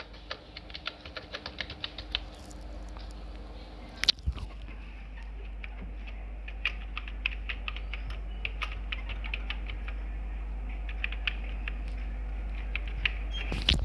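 A new password is typed on a computer keyboard in a steady run of close, crisp key clicks with one sharper tap partway through, over a low constant hum.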